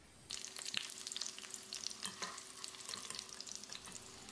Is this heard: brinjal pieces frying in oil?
yes